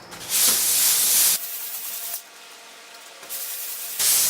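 Sandpaper rubbed over parchment in long, close strokes, a loud broad scratchy hiss that stops, returns more softly, then comes back strongly.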